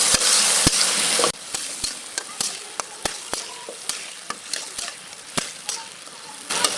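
Small pieces of taki fish frying with spices in a pan, a loud sizzle at the start, then steady frying broken by frequent sharp spatula taps and scrapes against the pan.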